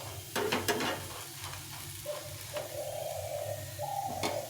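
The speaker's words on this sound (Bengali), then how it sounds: "এইভাবে একটু হালকা করে ভেজে নিতে হবে, খুব একটা বেশি ভাজতে হবে না।" Peanuts lightly frying in a pan for a chutney, with a steady close sizzle and a few scraping stirs and clinks, no talking.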